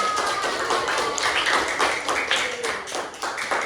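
A group in a classroom coding and training session claps together, a loud, close patter of hands with some individual claps standing out, continuous and fairly dense.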